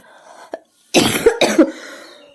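A woman coughs in two harsh, loud bursts close by, after a brief faint throat sound, with quiet room noise before and after.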